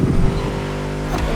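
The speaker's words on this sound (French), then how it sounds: "Écoute-moi ce V8, c'est comme un bon gros riff de guitare bien saturé." A V8 muscle car engine roars steadily on a racetrack, a dense loud drone that rises slightly near the end.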